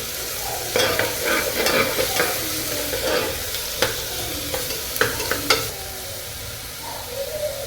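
Garlic paste and onion fry in a pan for a mutton rassa curry while being stirred, making a continuous sizzle broken by frequent scraping and knocking of the spoon against the pan.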